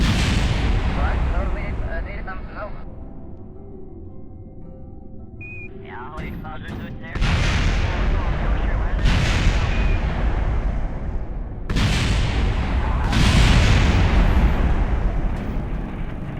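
Spacecraft blowing apart on impact in the Kerbal Space Program game: a run of loud, heavy booming blasts, each crashing in as a dense broadband roar and rumbling on, with quieter crackling debris between the bursts.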